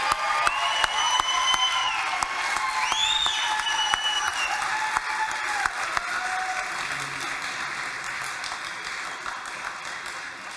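An audience at a school board meeting gives distinguished students a long, steady round of dense clapping that stays even before easing slightly, with some cheering and children's voices mixed in.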